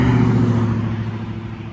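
Steady road traffic rushing past beside a highway, a continuous broad roar of passing cars with a low engine hum, fairly close and loud, with no voices.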